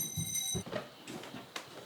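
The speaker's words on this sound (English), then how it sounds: "One of the Zen students sounds a wake-up bell." A wake-up bell rings out before daybreak at Antaiji, a Japanese Zen monastery, a bright metallic ringing in quick repeated strikes for about half a second, followed by faint scuffing sounds.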